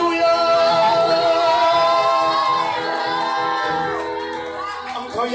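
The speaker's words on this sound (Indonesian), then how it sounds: "Sorakan haleluya." A worship congregation shouts and cheers together in a loud sustained roar, with tonal voices and music ringing through it, tapering slightly toward the end.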